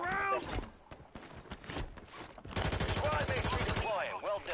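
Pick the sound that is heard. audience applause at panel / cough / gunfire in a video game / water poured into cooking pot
gunfire in a video game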